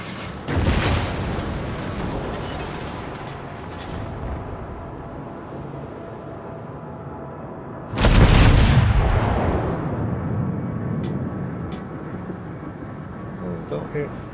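Enemy shells fired at a Colorado battleship in World of Warships: heavy booming blasts near the start and a loud, close impact burst around the middle that rumbles and decays, with lighter distant firing, over a steady engine-like drone.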